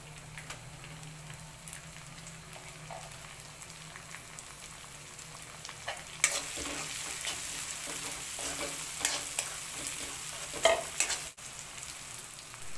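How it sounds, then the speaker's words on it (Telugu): Onions and tomatoes fry in a pan with a steady, close sizzle. The frying grows louder partway through, and occasional stirring scrapes cut through it. "ఇప్పుడు టమాటా వేసుకొని వేయించుకోవాలి."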